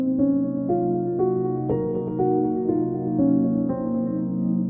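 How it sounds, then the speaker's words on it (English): Guitar melody using the second mode of Hirajoshi over a Locrian natural 6 backing, with about eight evenly spaced notes moving over a droning chord bed, clear and close. "you're going to be playing the second mode of Hirajoshi over the top of that."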